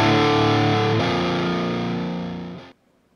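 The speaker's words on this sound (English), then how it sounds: "What I want you to listen to is the very moment of the attack when he strikes the chord." Heavily distorted electric guitar chord in drop D played through a big amplifier, struck once at full loudness and ringing as a dense sustained roar that thins slightly before cutting off abruptly near the end.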